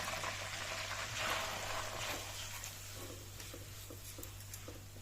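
Chopped onion sizzles in a pan during pepper chicken cooking, a soft, steady crackling hiss over a low background hum, with no one talking.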